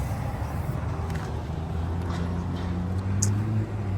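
A vehicle rolls along a highway at speed towing a 1965 Vietnam-era M416 military trailer, a steady low engine drone and road rumble filling the cabin, with a faint rattle near the end.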